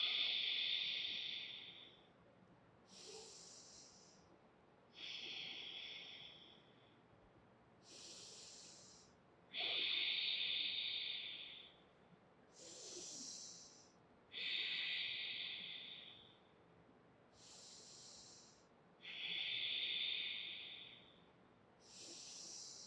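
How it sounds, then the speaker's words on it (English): Slow, deep breaths during a yoga breathing exercise, heard close as a regular cycle of about nine airy, hissing inhales and exhales with short pauses between them. "Inhale, belly out, exhale and release."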